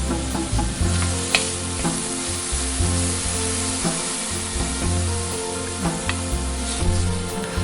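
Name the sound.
long-cut potatoes frying in hot oil in a frying pan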